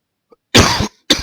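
Two sharp coughs from a man, the first longer and harsher, the second a brief burst after a short pause, close and loud in an otherwise quiet room.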